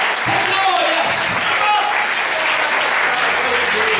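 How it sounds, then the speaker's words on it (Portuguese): A church congregation claps loudly and continuously in a dense, sustained burst of applause, with faint voices mixed in. "Aleluia, Jesus, aplauda ele, sabe por quê?"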